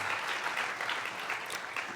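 A congregation at a Sunday church service claps warmly and continuously, a moderately distant, even wash of applause from a packed room.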